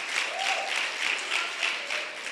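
A church congregation clapping during a sermon, producing a steady wash of applause at moderate distance with a faintly pulsing, rhythmic texture and no speech over it.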